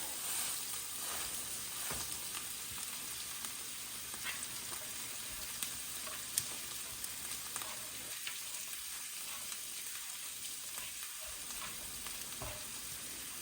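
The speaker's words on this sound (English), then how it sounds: "we'll step over here to our cast iron skillets that are already preheated to about medium high. And we'll put these right down in the oil." Beef pot roast, a center cut roast, searing in about a tablespoon of oil in a preheated cast iron skillet over medium-high heat, giving a steady quiet sizzle with small crackles and pops throughout.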